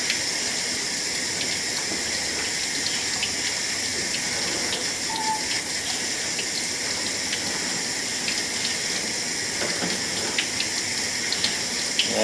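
Water runs through a house floor during a leak test in Newport, Kentucky, a steady broadband gush that continues unbroken and fairly loud throughout.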